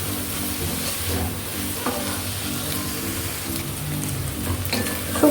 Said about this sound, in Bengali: সয়া সস দিয়ে আমি ভালোভাবে মিশিয়ে নেব সবজিগুলোর সাথে